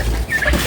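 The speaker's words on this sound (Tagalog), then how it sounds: "So, ito naman ang ating pabo." A turkey gobbles in a farm pen among other livestock, a short close gobble with warbling calls over a steady low background rumble.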